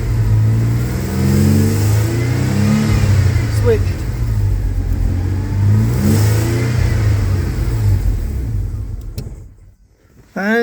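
Jaguar AJ30 V6 engine running with its variable valve timing altered, idling loudly up close and rising and falling in pitch through several revs before stalling near the end, with someone talking over it.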